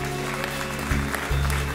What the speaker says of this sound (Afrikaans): Kom ons gee vir Charlize 'n groot klap